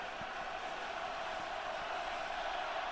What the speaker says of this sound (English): Crowd trying to stay in it and stay loud